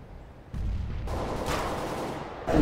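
Gunfire in the game CS:GO, a few loud close shots with sharp onsets and sustained echoing bursts, the last one arriving right at the end.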